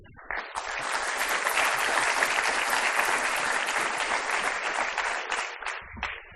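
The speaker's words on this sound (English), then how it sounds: "Please give him an applause." A large audience at a 2019 launch event for a public investor report bursts into applause for the Deputy Prime Minister, building fast, holding dense and strong, then tapering off.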